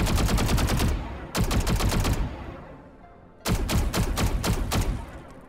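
A Xerofang-skinned Vandal rifle firing in the video game Valorant, loud, close, rapid automatic bursts in three separate strings with short pauses between them.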